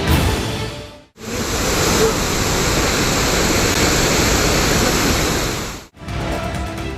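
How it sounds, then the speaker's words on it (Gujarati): Water pouring over a full dam after heavy rain, a loud, dense, continuous roar of rushing water that fills the whole stretch between two brief cuts, with no voices. "ડેમ છલકાઈ રહ્યો છે."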